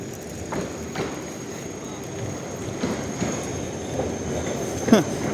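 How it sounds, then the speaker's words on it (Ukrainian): A new number 8 tram passing along a street in Lviv, with a rumble of rail wheels, periodic clunks over rail joints and a brief wheel squeal near the end, heard at moderate distance with faint voices nearby. "Новенький трамвайчик номер 8 у Львові."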